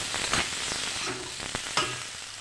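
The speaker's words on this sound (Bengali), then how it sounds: "সবজি ভাজা হয়ে গেছে, দিয়ে দেবো পালং শাক।" Spinach goes into a pan of frying vegetables and sizzles steadily, with a few scraping stirs and knocks over a constant crackle, close and moderately loud.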